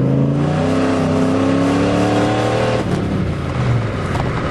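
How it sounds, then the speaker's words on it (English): Turbo Coupe engine revving at about half throttle and pulling while accelerating, a loud rising drone with gear-like pitch shifts, close and continuous without speech. "I'm just gonna give it a little throttle."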